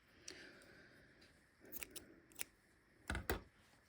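Scissors snipping crochet yarn up close in a quiet room, several crisp cuts in small clusters, the last pair the loudest, with soft handling noise between them.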